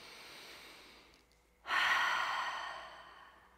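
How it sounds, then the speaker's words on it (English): A soft inhale through the nose followed by a louder, breathy exhale through the mouth, close and alone during a chair yoga session, with no speech over it. "Take an inhale through the nose and an exhale through the mouth."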